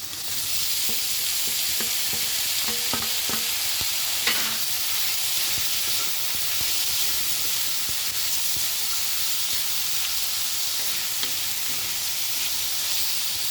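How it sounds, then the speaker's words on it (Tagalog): Pork fries in a pan with an even, dense sizzle and hiss throughout, with light clinks and scrapes of utensils here and there, close and fairly loud. "Ilagay na natin yung ating pork."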